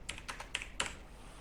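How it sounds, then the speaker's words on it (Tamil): Keys tapped on a computer keyboard while a receipt number is typed, four quick crisp clicks in a short irregular burst, close and fairly quiet. "அந்த ரெசிப்ட் நம்பர் டைப் பண்ணுங்கள்"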